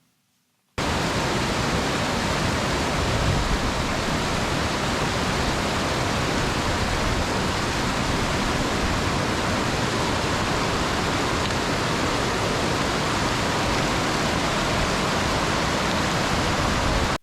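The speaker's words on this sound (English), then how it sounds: "We get to a stream that has a bit more flow" A mountain stream with strong flow along the Pacific Crest Trail in Washington. After a moment of silence, a loud, constant rush of water fills the clip with no voices.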